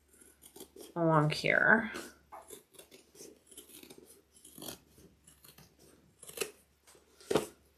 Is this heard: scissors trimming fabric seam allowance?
yes